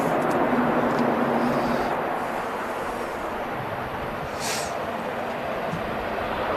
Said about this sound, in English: Here's your Etihad from the Isle of Man touching.